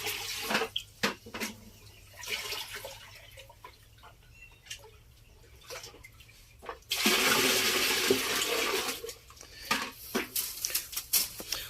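Homemade liquid decomposer, about 20 to 30 litres, poured into a container while making summer liquid fertiliser for vegetables; a steady, fairly close splashing gush of liquid that swells loudly midway, with no talk.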